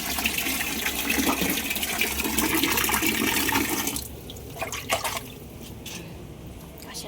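Water pours loudly into a basin or tub to bathe a Shih Tzu, a rushing stream that cuts off partway, leaving quieter drips and splashes with a voice nearby.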